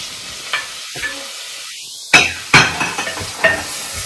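Ingredients for palak paneer sizzle in a pan with soft scraping stirs and a few sharp bursts of crackle, close by and moderately loud, with no talking.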